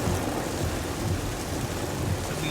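A sudden heavy tropical downpour drums steadily and loudly, with a dense roar of rain and low rumbling thunder throughout and no voices.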